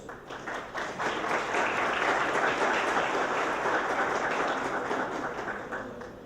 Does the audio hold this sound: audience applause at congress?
yes